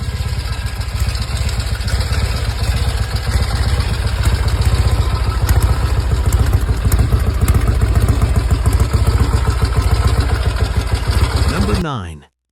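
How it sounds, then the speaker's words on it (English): A classic Norton Commando motorcycle engine runs steadily with a loud, close, throbbing rumble and mechanical clatter, holding an even pace for most of the stretch before cutting off abruptly at the end. "The bike remains largely unmodified, preserving the authentic feel and sound that define the Commando."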